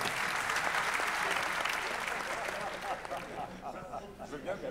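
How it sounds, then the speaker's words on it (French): An audience at the opening of a national conference applauds the event's partners, with dense, loud clapping that fills the hall, then thins slightly toward the end. "je vous demande de les applaudir bien fort tous"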